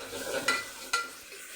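Ginger garlic paste frying in a pan, a soft sizzle with two quick stirring scrapes, faint and close, no talking.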